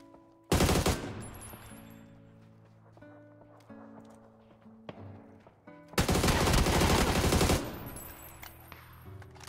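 Two loud, close bursts of rapid automatic gunfire from a hard-recoiling gun in PUBG, separated by a few seconds of quieter game sounds.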